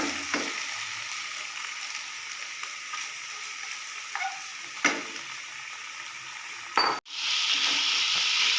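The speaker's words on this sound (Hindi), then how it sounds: "चिकन को मैं डाल के भून रही हूँ अच्छी तरह।" Chicken pieces frying with softened onions in a pan, a steady close sizzle with occasional stirring scrapes and a clink, then a sudden louder sizzle burst near the end.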